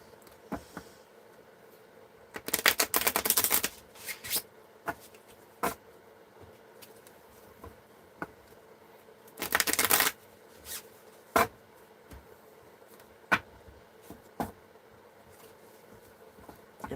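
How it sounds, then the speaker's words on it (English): Tarot-style card deck being shuffled by hand, crisp riffling bursts in two longer runs with scattered single card snaps and taps between, close and fairly quiet, no talking. "I did shuffle this deck already. We'll do it again."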